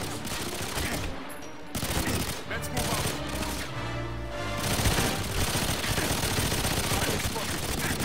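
Dense, rapid bursts of video-game gunfire from GoldenEye 007 Reloaded, loud and continuous throughout, with some talk mixed in.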